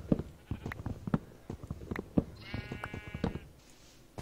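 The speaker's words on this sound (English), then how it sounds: "I've been breeding sheep frantically." Minecraft sheep bleat in a Skyblock survival game, with one wavering bleat rising over a run of soft rhythmic taps and footstep-like clicks.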